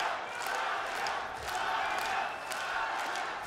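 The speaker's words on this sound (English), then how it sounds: "Crowd coming alive here in Kishino." A distant, faint arena crowd at a kickboxing fight swells into cheering and shouts in steady waves, with the noise rising and falling a few times over a few seconds.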